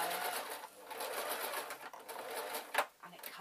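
A sewing machine stitches cotton fabric in a fast, steady, close-up run of rapid needle strokes that continues almost unbroken, with a brief pause near the end.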